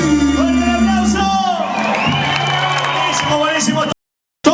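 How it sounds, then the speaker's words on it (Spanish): A crowd at a Caribbean dance show cheers, whoops and shouts loudly, mixed with music and a voice on a sound system, before a sudden brief dropout and a short return. "¡Fuerte el aplauso!"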